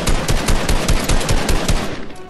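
Rapid automatic gunfire in Fortnite, dense bursts of shots fired to blow out a floor, loud and close with a steady stuttering rhythm and no talk over it.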